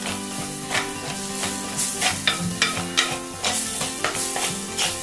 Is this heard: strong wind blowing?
no